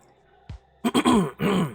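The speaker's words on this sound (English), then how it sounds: "Lima coughed to get their attention." A throat-clearing cough from a romance story game breaks a short quiet. It is followed by a few strained, groaning vocal bursts, close and moderately loud.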